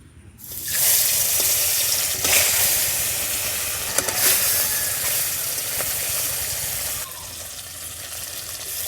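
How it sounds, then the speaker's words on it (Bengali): Gurjali fish frying in hot oil in a wok, a loud continuous sizzle and crackle rising sharply at the start and holding steady, with brief bursts of spatter, no talking. "তেলটা গরম হয়ে গেছে, এরপর একে একে মাছগুলো সব ভেজে নেব"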